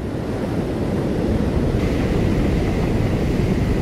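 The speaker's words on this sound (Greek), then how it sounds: "Σήμερα άνεμοι 8 και 9 μποφόρ στο νότιο Ευωικό φέρνουν αυτά τα εντυπωσιακά κύματα στην παραλία." Sea waves break on Rafina beach under gale-force 8 to 9 Beaufort winds, a loud continuous roar of surf with heavy wind buffeting the microphone.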